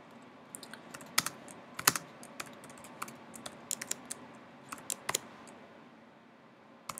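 Close, quiet computer keyboard typing during MATLAB work, made of irregular single keystrokes and short clusters of clicks spread over several seconds, with no speech.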